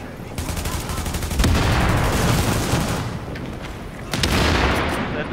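Heavy gunfire in The Division video game, dense and loud, with a sharp burst near the start and another after four seconds over a continuous rumbling din of shots and booms.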